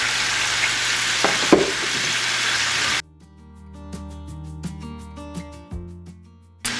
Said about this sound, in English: Okay, so the sausage is frying up.